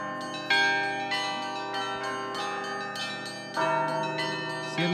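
Church bells ring at the Nikolo-Solbinsky monastery during a bell-ringing festival, a dense layered peal of many tuned bells struck in steady succession, loud and close, with fresh accented strikes swelling the sound.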